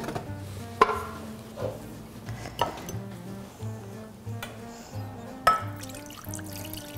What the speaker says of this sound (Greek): Προσθέτουμε νερό κανονικά.